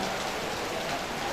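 Rain falls steadily during a school festival at SMA PGRI 2 Padang, an even, moderately loud hiss of drops with no talk over it.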